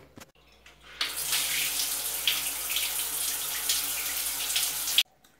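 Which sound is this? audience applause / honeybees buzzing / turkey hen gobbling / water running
water running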